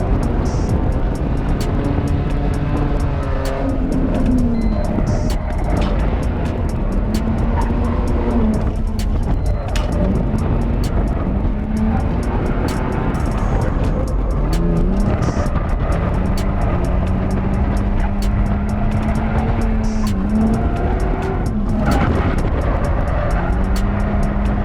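A 180-horsepower BMW is driven hard through corners on rear tires with little grip. A loud continuous engine roar rises and falls with gear changes across the run, with a few faint tire squeals.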